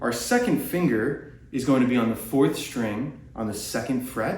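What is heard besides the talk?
No everyday noises stand out.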